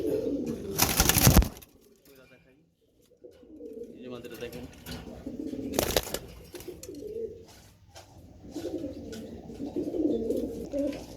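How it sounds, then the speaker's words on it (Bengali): Three silver pigeons, two males and a female, coo in low repeated murmurs close by, with someone talking over them and a couple of sharp bursts of noise. "এই যে তিন কবুতর দেখেন তো"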